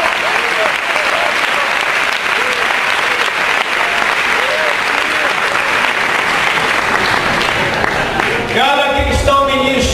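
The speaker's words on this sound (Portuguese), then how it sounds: "Aplauda Jesus bem forte." Church congregation applauding loudly for Jesus, a dense sustained roar of clapping that fills the space, with a preacher's voice and music rising near the end.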